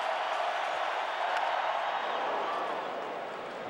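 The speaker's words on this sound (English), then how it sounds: "And the oohs and ahs from the crowd" Baseball stadium crowd during a 2010 playoff game between Cincinnati and Philadelphia, a broad, steady murmur of oohs and ahhs from thousands of fans, swelling slightly then easing off.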